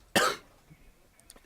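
A single sharp, loud cough, close up, followed by near silence and a few faint clicks.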